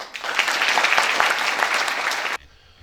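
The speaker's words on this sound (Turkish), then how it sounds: "ona çok çok güçlü bir alkış istiyorum" Vigorous applause from an audience at a World Disability Day event, honoring a person being thanked, loud and dense for a couple of seconds before cutting off sharply into quiet room tone.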